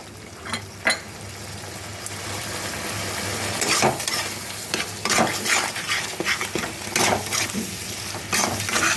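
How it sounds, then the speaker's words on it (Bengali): A ground paste of onion, garlic, ginger, green chili and red chili fries in a pan while it is stirred, so a busy sizzle runs under repeated close scraping and clinks of the spoon against the pan. "এবার এটাকে নেড়ে নেব।"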